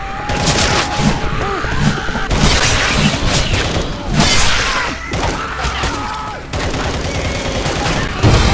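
Loud, close bursts of gunfire in repeated rapid volleys across an outdoor battle scene in a game, with booming echoes and brief gaps between each fusillade.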